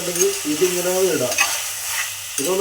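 Food sizzles in hot coconut oil while a spoon scrapes and stirs it around the pan, close and steady.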